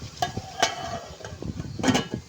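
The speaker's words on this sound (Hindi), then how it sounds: "लौकी को मसाले के अंदर अच्छी तरह मिक्स कर दिया है। अब इसको पकने देते हैं।" A spoon stirs bottle gourd through spices in a pan at home, making a few close scraping clinks over a soft, low sizzle.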